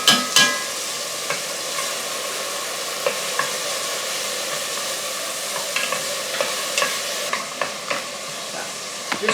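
Frozen pre-chopped onion sizzles in a preheated pan, a loud continuous frying hiss punctuated by scattered pops and stirring scrapes, close up and uninterrupted by speech.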